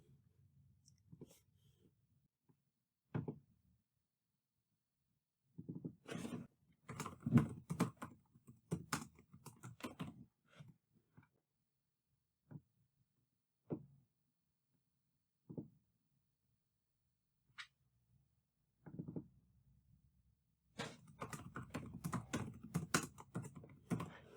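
Bursts of quiet keyboard typing, rapid clicking keystrokes in short clusters separated by silent pauses, close and soft.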